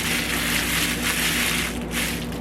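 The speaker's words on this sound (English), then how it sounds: "books that make a lot of crunchy sounds like this." Crinkly baby book being handled, giving a steady, close, dense crunching and rustling with no pauses and no voices.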